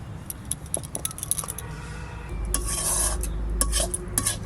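Fried fish being scooped out of a wok into a bowl, with quick scraping and metallic clinks of a spatula against the pan, close up, followed by a denser burst of scraping and clattering.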